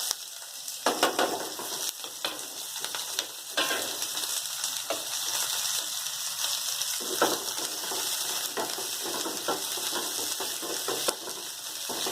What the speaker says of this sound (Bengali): দুটো পেঁয়াজ কুচি দিচ্ছি আমাদের, দুটো বড় সাইজের পেঁয়াজ।